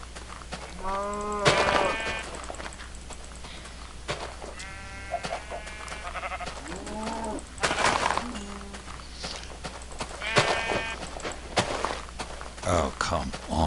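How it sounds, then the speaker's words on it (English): Sheep bleating in a Minecraft TerraFirmaCraft modpack game, several short wavering bleats spaced over the span with footstep sounds and someone talking over them. "let's get after some of these sheep."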